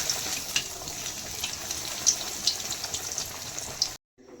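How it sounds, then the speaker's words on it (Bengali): Fish cutlets frying in hot oil at a wedding meal preparation, a steady close sizzle with scattered sharp pops and crackles, no talking, cutting off abruptly at the end. "এখন আমরা ফিশ কাটলেটগুলোকে ভেজে নেব।"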